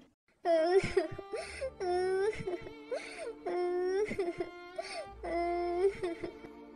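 A cartoonish high voice wails and sobs loudly in long rising and falling cries, broken by short gasps, imitating a crying bird.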